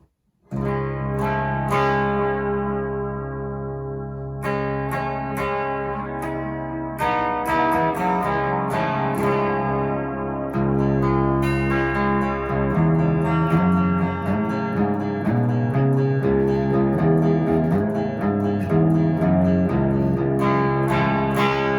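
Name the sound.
electric guitar humbucker pickup with effects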